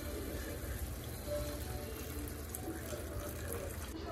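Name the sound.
water being poured into cooking pot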